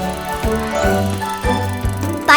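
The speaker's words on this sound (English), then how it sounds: "Bicycle." A bicycle sound effect gives rhythmic mechanical clicks and whirs at a steady pace, close and fairly loud, with a brief bright ring at the end and no talking.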